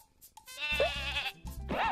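Sheep in the Croc: Legend of the Gobbos video game bleat repeatedly, clear and close, in short wavering cries, with no talk.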